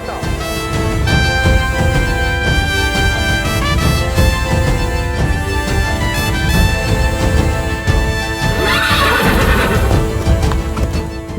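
Horse neighing loudly with clip-clop hooves in a dramatic scene from a Ramayana episode, set against a full orchestral music score throughout.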